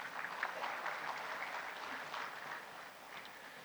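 An audience applauding after a speech at a tyre-recycling industry conference session, steady clapping from a moderately distant crowd that holds its level throughout without speech.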